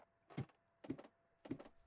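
Three short, muffled door thunks in Minecraft in quick succession, evenly spaced about half a second apart, quiet against a faint hum.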